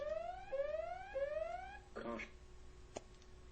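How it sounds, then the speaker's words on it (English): An alarm rings as a series of rising electronic sweeps, repeated about three times in quick succession. A brief voice-like burst follows, and the sound is fairly quiet overall. "sorry about that alarm"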